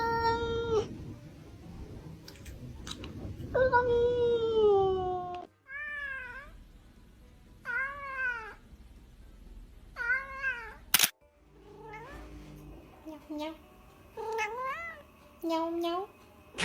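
House cats let out a series of soft, rising-and-falling meows, some drawn out and others short, close by with quiet gaps between them. People talk now and then in between.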